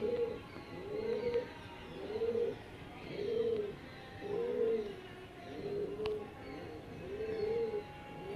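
Pigeons at a pigeon market in Behala coo in a steady series of about seven rolling calls, evenly spaced and fairly close, over a faint background murmur.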